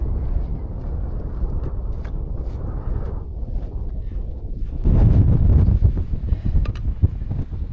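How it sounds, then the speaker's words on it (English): Strong wind buffets the microphone on Hart Crag, a mountain ridge on the Fairfield Horseshoe, as a steady roar that swells into a louder, harsher gust partway through, with no one speaking. "Just a shame that wind's a bit on the strong side."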